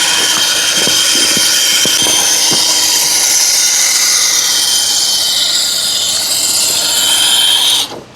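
A cheap brushless RC car runs at full throttle, with a loud, continuous high-pitched motor whine and a few clicks early on. The whine holds steady and then cuts off sharply at the end.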